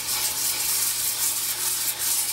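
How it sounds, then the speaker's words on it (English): Wet sanding with 220-grit sandpaper on a moistened pad, worked in circles over a shellac-finished marquetry panel; a steady, close, continuous soft rubbing hiss with no talking. "start with 220 grit and a sanding pad, just moisten it with some water"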